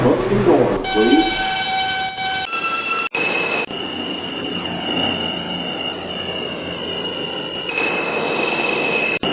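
An R142 subway train running on a 2 line trip toward Wakefield, with steady loud rumble and a sustained whine, pierced by a few sharp clunks and squeals.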